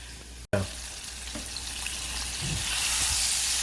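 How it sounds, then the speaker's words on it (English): Salmon frying in hot oil, lifted out golden brown, gives a steady bright sizzle that swells slightly toward the end, with a brief dropout near the start and a few faint clinks, no talk. "Now we get ready to take this nice salmon out of the oil."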